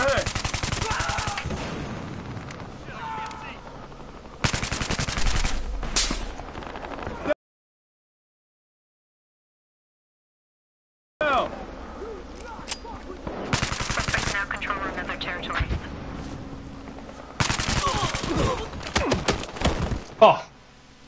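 Bursts of rapid L82A2 rifle fire ring out in Battlefield Hardline, loud clusters separated by pauses and one silent gap, with a player talking over the shooting.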